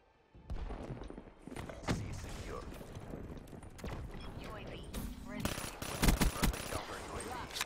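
Burst-fire gunshots and other gunfire ring out in a Black Ops match on Nuketown, rapid cracking volleys and booms under a talking voice, loud and close.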